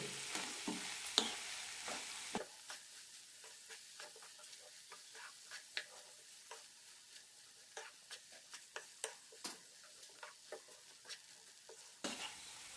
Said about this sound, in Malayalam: കൂടെ തന്നെ ചോറും നന്നായി മിക്സ് ചെയ്യാം